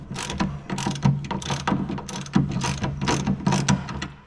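A ratchet clicks in quick repeated strokes while loosening a bolt on a Brembo big brake kit caliper on a Z31 300ZX, close and steady with no voices.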